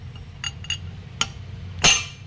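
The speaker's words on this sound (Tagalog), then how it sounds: "pinapakita lang po namin kung paano namin pinupukpok yan" Metallic taps and clinks from hammering a bearing onto the differential pinion gear of a Nissan NV350, a few sparse light strikes ending in a louder ringing hit, over a low background hum.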